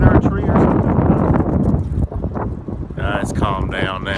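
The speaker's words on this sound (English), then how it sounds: "It's so windy here in Missouri." Strong gusting wind in Missouri buffets the microphone with loud, continuous low roaring, steady through the opening seconds before a voice starts talking over it near the end.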